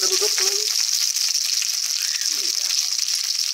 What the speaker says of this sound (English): Ooh, nice and crispy and brown, my little dumplings.